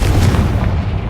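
Confringo, a fiery spell from Hogwarts Legacy, bursts as a short, dense, loud blast with heavy low-end rumble and no voices.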